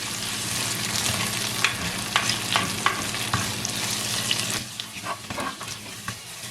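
Baby jackfruit curry ingredients with curry leaves sautéing in a pan, a continuous sizzle broken by the scrape and clatter of a spoon stirring, with a faint running-water hiss behind it.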